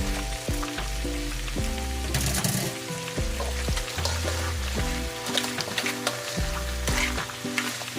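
Crab sizzles loudly in a hot pan, a steady frying hiss with crackles, and a soft melody plays underneath throughout.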